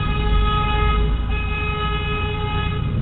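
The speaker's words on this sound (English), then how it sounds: "every single one of them was driving by honking the horn" A car horn blares in one sustained, loud, steady blast with a rich stack of tones, sounding from a vehicle driving past a home as part of an organized horn-blowing campaign.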